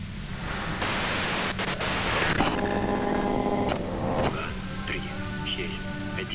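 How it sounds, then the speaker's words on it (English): Loud, steady white-noise static from the Disco Elysium video game fills the whole clip, swelling to a harsher burst early on, with game tones and murmuring sounds layered underneath. "you can do it through the white noise."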